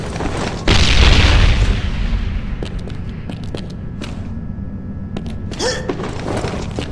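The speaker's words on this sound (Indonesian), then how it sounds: "We dropped the bomb!" A bomb explosion in the shooter Mercenary Online: a heavy booming blast that swells suddenly and decays into a rumbling tail, followed by scattered sharp clicks and thuds of gunplay.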